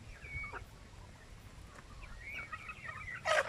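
Native chickens at feeding time give off faint, scattered clucks and calls over a low rumbling background, ending with a louder, brief squawk near the close.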